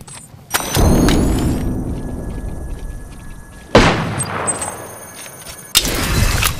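A frag grenade and gunfire in Apex Legends: three sharp, loud blasts, each followed by a rumbling decay, with mechanical clanks and a faint ringing tone between them.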